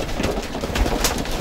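Homing pigeons in a breeding loft make soft, continuous low cooing, close and steady throughout with no talk.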